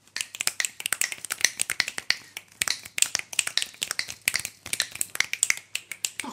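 Finger snapping performance of a song: dense, crisp snaps in a brisk rhythmic pattern, several hands together, close and bright, continuing steadily without voices.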